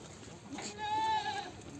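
A single wavering goat bleat rises in the middle, heard over the noisy outdoor background of a village goat market in Jangirana, Punjab, with faint talk.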